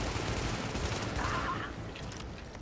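Rapid gunfire from the shooter game Tom Clancy's The Division, a dense continuous burst of shots at moderate level filling the clip, with no talking over it.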